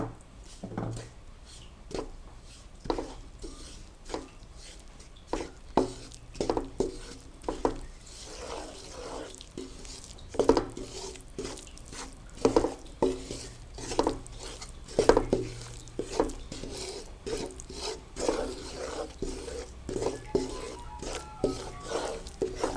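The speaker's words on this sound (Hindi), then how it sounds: "अब आपने इसको मुसलसल चम्मच चलाते हुए भूनना है" Flour roasting in a pan for egg halwa, stirred continuously with a spoon, giving repeated soft scraping and clinking strokes in an uneven rhythm, close and fairly quiet.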